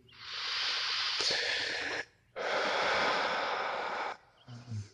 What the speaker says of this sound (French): prendre quelques respirations plus fortes pour vous redynamiser